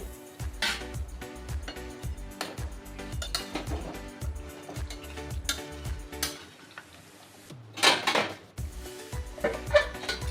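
Chicken being stirred in a pot and covered with a lid, with steady rhythmic clinks and taps of a utensil against metal, then a sharper clatter as the lid goes on, close and clear.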